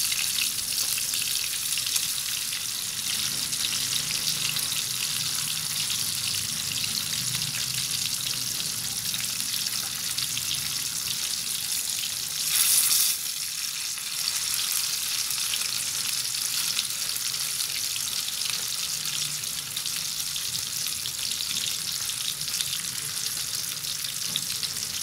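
Golden-fried tofu sizzles steadily in a pan, a continuous bright frying hiss throughout with a brief louder burst midway, no talking.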